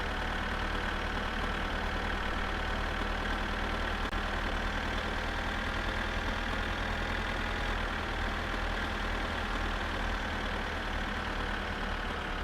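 A 15-liter straight-six diesel semi truck engine idling in My Summer Car, a steady unbroken low rumble with no other sounds.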